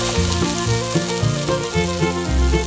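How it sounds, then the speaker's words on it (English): Green beans sizzle in olive oil in a hot pan, giving a steady, close frying hiss with faint pulsing crackles and no voices. "Cook until sizzling."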